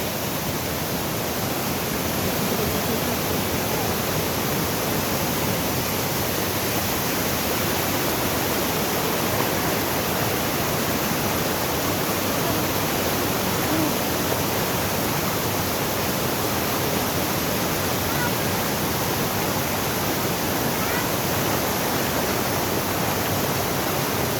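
Mt. Maarat Falls in San Mateo, Rizal pours in a constant, dense roar of falling water, loud and even from start to finish with no voices.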